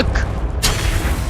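The Confringo fire blast spell in Hogwarts Legacy lands as one sudden, loud, broad boom about halfway through, followed by a sustained roaring rumble.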